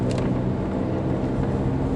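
A Renault Sandero Stepway engine pulls uphill in second gear with the air conditioning on, a steady, loud, low droning hum heard from inside the car.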